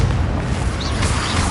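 A low rumbling magical blast from a Bombarda or Confringo spell in Hogwarts Legacy booms loud and close, with a dense roar that carries for a second and a half.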